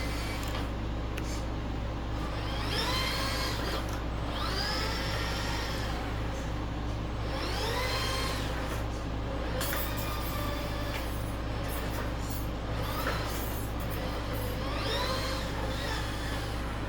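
A Tamiya Grand Hauler 1/14 RC tri-drive hydraulic dump truck driving in second gear with a 3-speed transmission, a steady electric motor whine that rises and falls in repeated swoops as it speeds up and slows.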